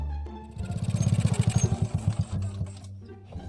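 A motorcycle engine chugs close by in a steady rapid pulse that rises, then slows and fades as if easing off, with no talk over it.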